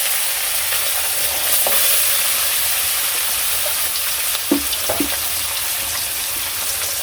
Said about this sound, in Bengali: তো যে মাছগুলো মাখা শেষ, এখন একটু ভেজে নই।